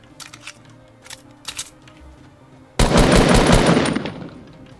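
Fortnite gunfire: a few scattered single shots, then a dense sustained burst of rapid automatic fire that dominates the last two seconds, loud and close.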